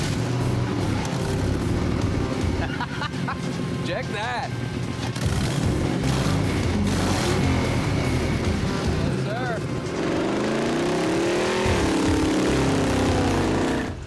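Ford Ranger pickup with a swapped 4.6-liter DOHC V8 and dual side exhaust starting up and idling with a loud, steady rumble throughout, revving slightly, while someone speaks briefly nearby.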